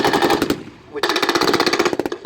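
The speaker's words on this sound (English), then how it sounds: "50 caliber machine gun in the back of the half track, putting some very heavy fire down on the Germans in the village." A .50 caliber machine gun fires from the back of a half-track at a live WWII battle reenactment: a loud, close burst, a brief pause, then a longer run of rapid, evenly spaced shots.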